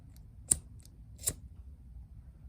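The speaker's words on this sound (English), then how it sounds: "Then I'm going to snip off a little bit right here" Scissors snip twice through macrame bracelet cord, two sharp, quiet cuts close by, separated by under a second, in an otherwise quiet room.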